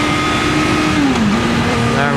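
A motorcycle engine revs and dips on a downshift while overtaking a Toyota on a rain-soaked road, buried under a loud, steady roar of wind and road noise.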